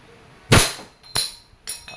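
WE Hi-Capa T-Rex airsoft pistol from 2011 firing plastic BBs: three sharp, loud snapping shots spaced about half a second apart, each a crisp crack with a brief ringing tail, no talk.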